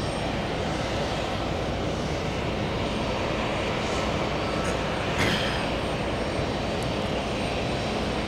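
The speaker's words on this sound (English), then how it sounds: "We're gonna see it race down the runway, currently traveling more than 70 knots." Airliner accelerating down a JFK runway, a loud, steady broadband engine roar heard from a distance that swells slightly partway through, no talk.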